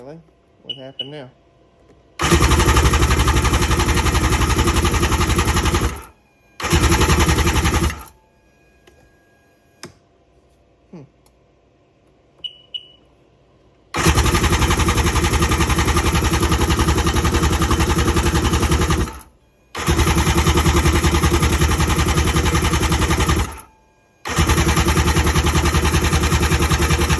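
A two-stroke jet ski engine runs loud and steady in several long stretches, separated by brief drops to near silence, with short talk in the quiet gaps.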